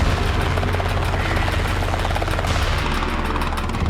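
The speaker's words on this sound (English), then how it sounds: "in a minute or so we're going to be trying to land a 600-kilogram helicopter on top of it" A roughly 600-kilogram helicopter hovers and sets down on the roof of a Skoda Yeti, its rotor a loud, steady, close chopping roar that fills the whole stretch with no talking.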